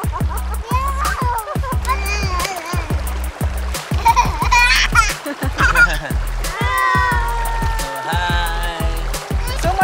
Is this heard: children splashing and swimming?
yes